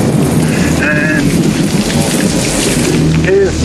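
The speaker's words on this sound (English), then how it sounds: "Come on, Caroline, it's raining!" Heavy rain pours steadily with rumbling thunder in a stormy night scene from the 1986 film Poltergeist II, loud and continuous, with faint tonal sounds briefly rising above the downpour.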